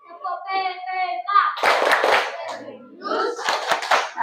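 A class of children performs a rhythmic PPK clapping chant, with bursts of fast hand claps between chanted voices.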